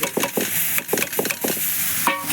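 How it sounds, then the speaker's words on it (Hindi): Bhaji vegetables dropped into frying masala in a pan crackle and sizzle with steady hiss and bursts of spattering and stirring scrapes, close and fairly loud, without talk. "अब मैं इसमें डाल दूँगी"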